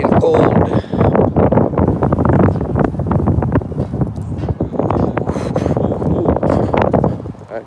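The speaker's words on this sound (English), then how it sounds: "Oh my God, yes, it's too windy." Strong, cold wind buffets the microphone in a steady, loud roar outdoors while walking, with a voice talking over it throughout.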